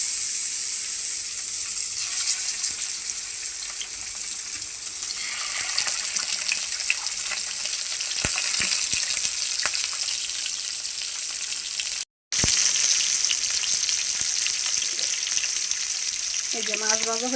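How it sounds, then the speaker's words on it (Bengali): Small hilsa fish frying in a hot wok, a steady close sizzle of oil running throughout with a brief cut near the end and faint tapping and clinking under it. "কড়াই গরম হয়ে গেছে, এই যে মাছটা দিয়ে দিতেছি।"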